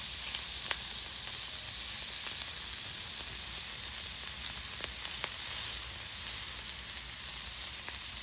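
Smash burger beef balls sizzle on a hot griddle beside bacon and sliced onion, a loud continuous frying hiss with scattered pops and crackles throughout, no talking.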